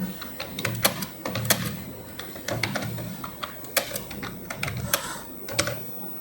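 Hindi being typed on a Chromebook keyboard: rapid, irregular clicking keystrokes, close and crisp, with brief pauses between bursts and no voices.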